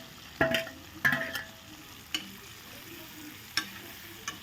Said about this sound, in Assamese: এইবাৰ আমি ভাজি লোৱা আলুকেইটা দি দিম